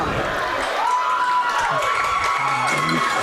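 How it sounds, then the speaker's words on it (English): Ricebird fans at a high school football game against Southside let out a sustained crowd reaction, jeering and shouting from the stands with a whistling tone, while a commentator's voice runs over it. "And you get the Bronx cheer here from the Ricebird fans"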